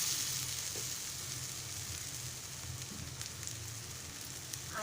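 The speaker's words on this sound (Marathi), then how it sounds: "आणि दुसऱ्या बाजूने आपण छान भाजून घेऊया" Besan pola, a gram flour pancake made Malvani style, frying in oil on a flat tava after being flipped, giving a steady close crackling sizzle throughout with scattered sharper pops.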